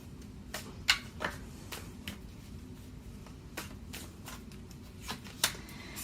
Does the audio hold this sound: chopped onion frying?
no